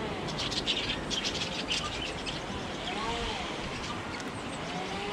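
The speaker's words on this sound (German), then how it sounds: "Das sind mehrere Vögel." Several small birds chirp in a wildlife park aviary in February, their faint tweets scattered over steady outdoor hiss at a moderate distance, with a budgerigar among them.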